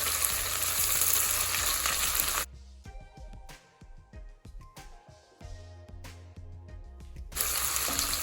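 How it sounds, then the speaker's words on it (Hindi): Ginger garlic paste fries with onions in a pan, a loud sizzle that drops away for several seconds amid clinks and stirring, then surges back. "और इसे अच्छे से भून लेंगे।"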